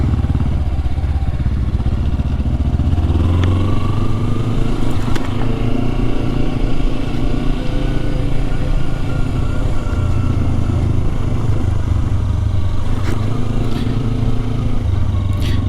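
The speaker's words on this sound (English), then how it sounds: "this bike's handling this stuff pretty good" A Kawasaki Versys 300 motorcycle rides slowly over rough off-road ground, its engine droning loudly and steadily throughout, with scattered clatters and scrapes from the terrain and a few sharp knocks.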